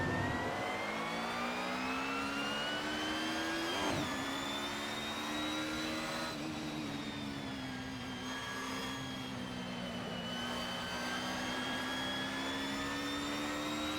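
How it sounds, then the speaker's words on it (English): Car engine in the PS4 racing game Assetto Corsa, a steady high-revving whine held for many seconds, with a brief pitch dip as the revs drop and climb again, alone without talk. "Oh, the sound of the cars is awesome."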